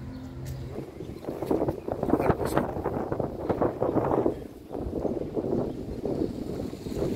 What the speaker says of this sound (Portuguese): Olha a magnitude do vento. Vento muito, mas muito forte mesmo